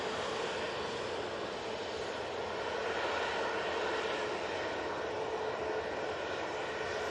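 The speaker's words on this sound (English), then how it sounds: "Making a wide turn using this A320neo." Airbus A320neo airliner departing Manchester Airport for Paris Charles de Gaulle, a steady broadband jet engine roar held at a constant level throughout, heard from a distance while the aircraft makes a wide turn.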